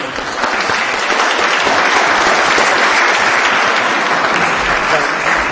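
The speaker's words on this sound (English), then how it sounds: "Let's give a round of applause" A lecture audience breaks into loud, dense applause that holds steady from start to finish, a full room of hands clapping together with no voices on top.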